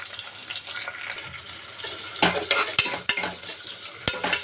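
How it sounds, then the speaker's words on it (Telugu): Two medium onions fry in a pan for tomato rice, with a steady close sizzle that grows busier midway, broken by several sharp spoon clinks and scrapes against the pan. "చిన్న ఆనియన్స్ వేగుతున్నాయి కదా"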